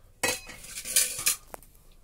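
Fish pieces are being mixed with masala in a metal bowl, producing a few close, bright clinks and scrapes of a utensil in quick bursts before settling quieter.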